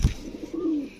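Pigeons in a loft of female birds kept for sale, a single soft coo rising and holding near the middle after a brief low thump at the start, close and fairly quiet.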